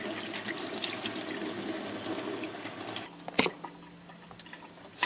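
Cold tap water runs into a kitchen sink over cooked pasta to rinse it, a steady splashing stream for about three seconds before it cuts off, leaving a few drips and a faint clatter.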